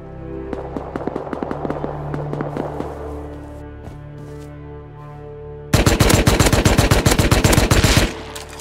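Gunfire in the survival video game Rust: a string of separate shots rings out, then a pause, then a louder, tight burst of rapid automatic fire lasting a couple of seconds.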